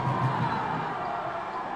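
A crowd at a football game cheers wildly after an attempt. The roar is loud and sustained, with voices mixed into it.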